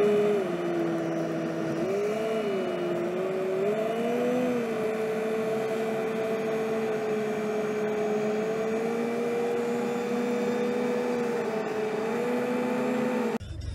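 A car cruises steadily into a small town, its engine a continuous close hum with gentle rises and dips in pitch, heard alone without talk until it cuts off at the end.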